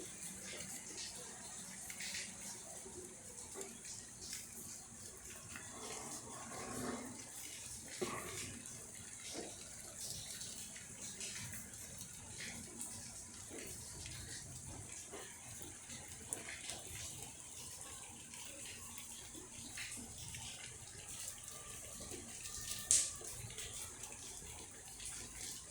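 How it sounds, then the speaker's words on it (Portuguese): Rainwater runs down during a rain shower in Petrolina, Brazil, a soft, steady rushing hiss heard at a distance and fairly faint throughout. "Ali tá descendo água."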